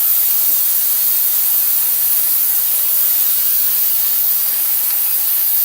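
A gas-powered lawn edger engine runs loudly and continuously nearby, a dense, unbroken roar with no pauses across the whole stretch.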